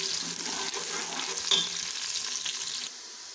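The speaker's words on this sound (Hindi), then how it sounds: "फ्राई करने के दौरान इसमें मैं कुछ खड़े मसाले ऐड करूँगी, जिसमें दालचीनी का टुकड़ा हो, ज़ीरा है, ताकि ये भी साथ साथ फ्राई हो जाए" Whole cinnamon and cumin sizzle with onions in hot oil for a dhaba-style moong dal, a steady close frying hiss with a few brief stirring clicks and no talk.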